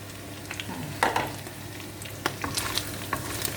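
Vegetables hit a hot pan and are stir-fried, with a continuous sizzle broken by sharp crackles and the scrape of stirring, fairly close and with no talk.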